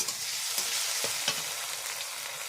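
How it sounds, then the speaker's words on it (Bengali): A paste of ground onion, cumin, green chili and ginger fries in a pan with a soft, even sizzle, and a few faint stirring scrapes come through the steady hiss. Nobody speaks. "এটাকে ভালো করে কষিয়ে নেব।"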